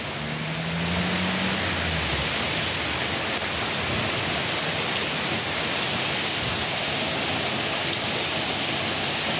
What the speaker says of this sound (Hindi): यहाँ पे चालू हो चुकी है जबरदस्त जोरदार बारिश, पानी नहीं मतलब इतना पानी गिर रहा है अभी।